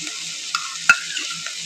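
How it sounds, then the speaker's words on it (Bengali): Garlic paste dropped into onions frying in hot oil, giving a bright, steady close sizzle with a sharp spatter burst partway through and no voices. "এবারে এর মধ্যে আমি দিয়ে দেবো 1 চামচ রসুন বাটা"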